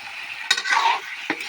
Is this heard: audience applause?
no